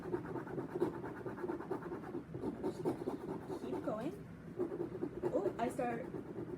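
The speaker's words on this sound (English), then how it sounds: "I'm just going to start scraping away at the black crayon that's on the top." Small scraping tool scratching black crayon off paper, a close, quiet run of rapid rasping strokes in an irregular rhythm, with a voice talking softly at times.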